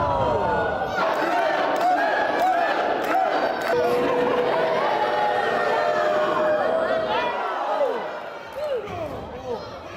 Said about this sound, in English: But then the real business began, and the crowd got really into it.